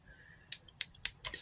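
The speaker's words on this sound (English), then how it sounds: "Scissors! So we're going to cut this open." Small scissors are handled close by while unwrapping packages, giving several quick, sharp metallic snips and clicks in an uneven rhythm against a quiet room.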